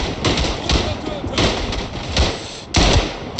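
Repeated heavy rifle shots in the World War I shooter Tannenberg, booming in several separate bursts spaced about half a second to a second apart, with someone talking over them.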